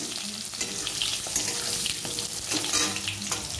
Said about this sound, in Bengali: বড়ি ভেজে তুলে এই যে বেগুন কটাটি ভেজে নিই,